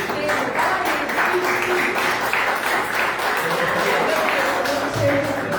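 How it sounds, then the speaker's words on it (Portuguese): A church congregation clapping during a family worship service, a sustained, dense round of applause with voices mixed in beneath it. "E as palmas é para o Senhor, que é tudo dele."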